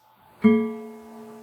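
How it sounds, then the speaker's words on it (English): One guitar string fitted with a small split ring is plucked once, giving a sharp attack followed by a buzzy, sustained ringing tone that fades slowly, heard alone up close. "I often use these little things called split rings."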